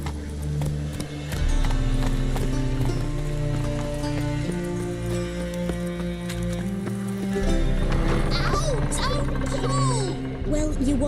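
Geralt's horse Roach galloping in The Witcher 3, rhythmic hoofbeats over steady rain, with game music and character voices talking over it.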